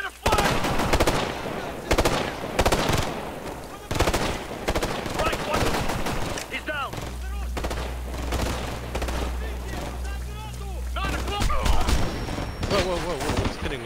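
Rapid automatic gunfire and single shots crack and rattle in a Ghost Recon Future Soldier co-op firefight in Dagestan, with dense bursts, a low rumbling boom in the middle, and players talking over the loud, continuous shooting.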